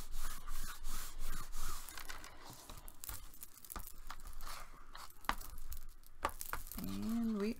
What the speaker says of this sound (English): And we are burnishing